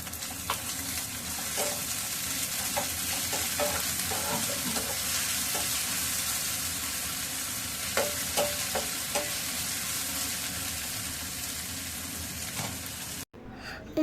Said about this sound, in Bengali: তারপর ভালোভাবে একসাথে নেড়ে চেড়ে ভেজে নেব